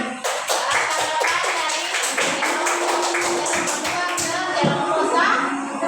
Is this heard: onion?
no